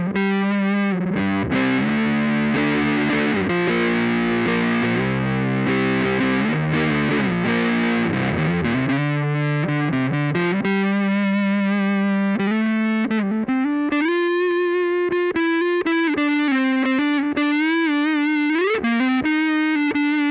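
An electric guitar on its neck pickup plays through a Torc Mòr distortion pedal, its volume turned down for a smoother drive. Loud, sustained distorted chords and single notes ring continuously for about twenty seconds, with no talking.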